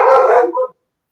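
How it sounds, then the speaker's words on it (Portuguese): A small dog gives a short, sharp bark and a brief yip, close and loud, then falls silent. "A sua cachorrinha é fã do Kimi Antonelli, porque fala nele, fala nela, fala nele, a cachorrinha late"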